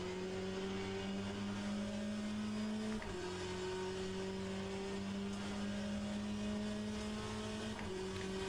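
A Chevrolet GT race car in Le Mans Ultimate laps Monza, its engine droning loud and steady at high revs from the cockpit, with a sharp gear change around the three-second mark and another near the end as the pitch climbs again.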